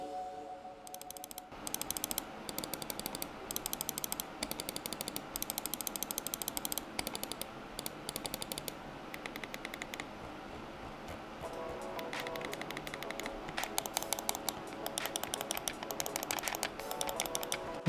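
Buttons on an Asus Harpe Ace Aim Lab Edition gaming mouse click sharply in fast, irregular bursts, close and crisp, continuing for many seconds with no voice over them.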